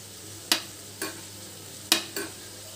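Onions frying in a pan are stirred with four quick, close scrapes over a quiet, steady background sizzle.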